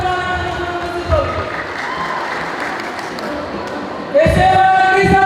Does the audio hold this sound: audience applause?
yes